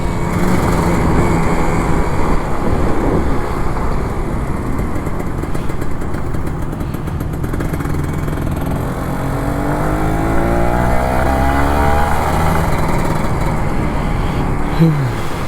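A Kawasaki Ninja RR 150 two-stroke sport motorcycle engine revs up and down on a commute home from the office, close and loud, with rising and falling throttle sweeps and a brief lull in the middle.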